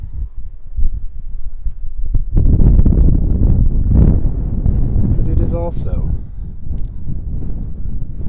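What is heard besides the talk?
strong wind in the Wichita Mountains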